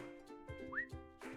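A little bird in the cozy coloring game Woodo gives a short rising whistle, a single faint chirp amid soft tonal game music.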